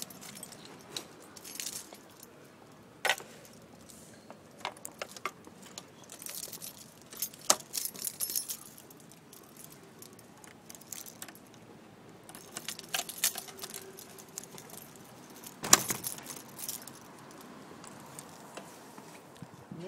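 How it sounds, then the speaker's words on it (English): Keys jangling as someone searches for shop keys at a skate shop in Oslo, with bursts of metallic clinking and rattling spread irregularly over quiet pauses, close and alone without talk. "Gotta find my keys."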